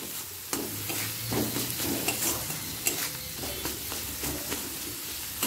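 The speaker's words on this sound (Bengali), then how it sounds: "সব মশলা ভালো করে মিশিয়ে নিলাম।" Spices stirred and fried in a pan for a spicy pea curry (ghugni) with green chillies: a steady sizzle with repeated scraping knocks of the spoon, close and clear, with no talking.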